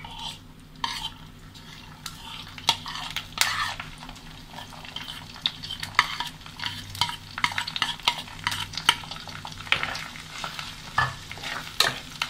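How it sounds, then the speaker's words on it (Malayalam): Chopped onions sauté in coconut oil with a busy, close sizzle while a utensil repeatedly scrapes and clacks against the pan in an irregular stirring rhythm, no voices present. "ഇതിൻ്റെ ആ ഒരു പച്ചമണമൊക്കെ ഒന്ന് മാറുന്ന വരെ നമുക്കൊന്ന് വഴറ്റിയെടുക്കാം"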